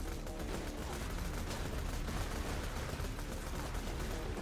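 Dense, continuous gunfire and explosions from a Borderlands 2 firefight, rapid overlapping shots and blasts filling the whole stretch at steady loudness with no pauses.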